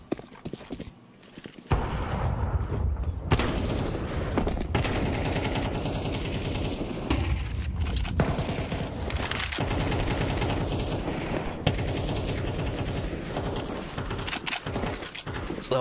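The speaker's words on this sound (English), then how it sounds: "So a whole lot of shooting going on." Sustained gunfire in a Counter-Strike 2 esports match, Faulkner against École de Technologie Supérieure, with dense overlapping automatic bursts rolling nearly continuously after a brief quiet opening.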